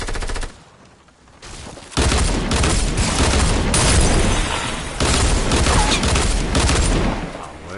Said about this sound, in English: Maybe I should stop shooting the fence.